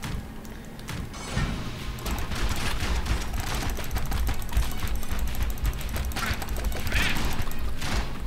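Trash cannon firing in the Enter the Gungeon video game, a dense, continuous barrage of crashing, rattling shots with game effects layered on top, loud and sustained throughout with no talking.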